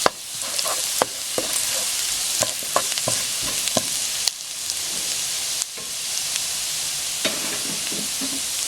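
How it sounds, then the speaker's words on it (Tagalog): Garlic fries and sizzles in oil while being stirred in a pan, producing a continuous crackling hiss punctuated by sharp scrapes and taps of the spatula against the pan. "Ang gagawin po natin dito sa garlic, gawin natin medyo tostado ng konti."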